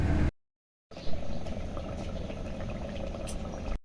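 Meat frying with whisked yogurt in a clay pot for matka gosht, a steady bubbling sizzle that starts after a brief silent gap and continues loud and even.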